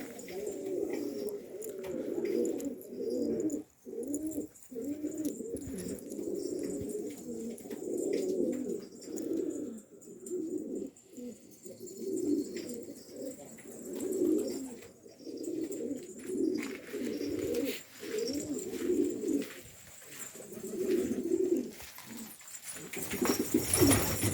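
Pigeons coo steadily in soft, throaty, repeated phrases, several birds overlapping at close range with occasional rustling.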